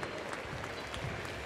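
Audience applause in an arena after a dog activities display at Crufts 2012, a brief, continuous wash of crowd clapping with some low murmur, moderately loud and even.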